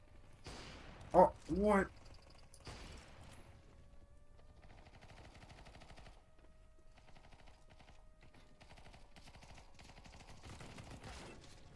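Gunfire in a first-person shooter played against bots, heard as a steady, fairly quiet rattle of shots under a man's brief startled exclamation near the start.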